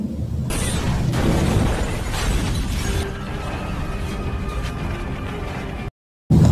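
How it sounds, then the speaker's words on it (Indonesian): A loud, sustained roar of a villa explosion and crashing debris in a film scene rumbles on for several seconds, then cuts briefly to silence before resuming. "dalam hitungan detik villa tersebut meledak"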